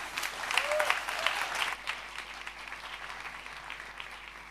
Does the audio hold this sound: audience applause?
yes